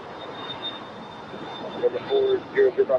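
A jet airliner departs from runway 25 at LAX, its engines a steady, distant broadband roar with a thin high whine, and a radio voice crackles over the noise toward the end.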